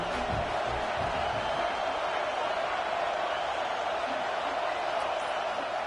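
A stadium crowd roars in a college football video game, Virginia Tech at Florida State, a dense, constant wash of cheering noise filling the whole stretch, with a commentator voice faintly beneath.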